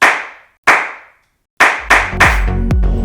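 A repaired, previously cracked cymbal clap stack is struck five times: two isolated sharp crashes ring out and decay, then three quicker hits follow, with deeper drum-like tones layered beneath the last ones.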